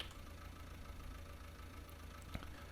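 A tractor engine idles steadily in Farming Simulator 19, a low constant rumble at moderate level with no talk over it.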